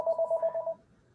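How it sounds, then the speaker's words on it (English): A phone rings during a select board meeting, a steady two-tone electronic trill pulsing about six times in quick succession, fairly loud and close, then cutting off into near silence. "I can't turn this phone off here."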